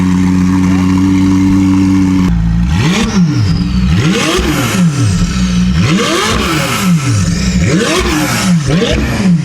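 McLaren 570S turbocharged sports car with a new exhaust and tune, idling then revving repeatedly in loud rising-and-falling sweeps close by, with a higher-pitched tone and audible turbo whistle.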